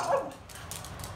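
An American shepherd or hound dog lets out a short, fairly close bark or yip right at the start, then only low room noise remains.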